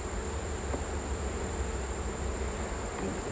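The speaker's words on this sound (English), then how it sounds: "Gotta be careful I don't squish any bees, because they are just everywhere." Honey bees swarming around an open beehive during an inspection, a continuous dense buzzing drone close by, steady throughout with no voices.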